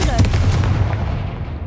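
The Confringo blasting spell in Hogwarts Legacy goes off as one loud, booming blast, a sharp crack that rolls into a deep rumble and fades within a couple of seconds.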